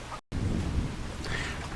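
Rain and rolling thunder in the farming video game Farming Simulator 25, a steady wash of rainfall with a low rumble beneath, broken by a brief silent gap near the start.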